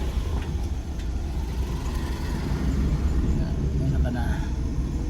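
A tricycle's motor drones steadily on a road, a constant low engine rumble heard from a moving vehicle with ambient traffic noise and no clear pauses.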